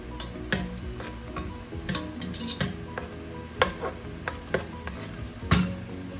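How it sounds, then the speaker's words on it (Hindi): Onion frying in half a cup of cooking oil in a pan, a faint sizzle under close clinks and scrapes of a spoon stirring against the metal, irregular taps spread across several seconds, no talk. "ये पैन में मैं ले रही हूँ 1/2 कप कुकिंग ऑयल और इसमें मैं डालूंगी अभी थोड़ी सी प्याज और इसको मैं पकाऊंगी"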